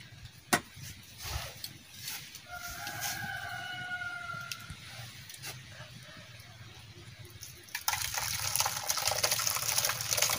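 Milk poured slowly into a pot while paneer is made at home, a soft steady trickle at moderate level, with a faint tonal whine from the background in the middle and a brief louder burst near the end.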